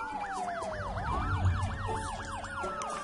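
Wailing ambulance siren from the city-building game SimCity (2013), rising and falling in steady sweeps over a low rumble of city ambience, loud and continuous with no talk.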